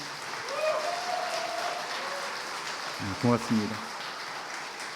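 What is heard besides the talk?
applause at church ordination ceremony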